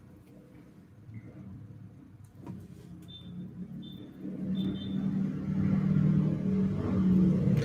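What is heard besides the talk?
a single motorcycle driving by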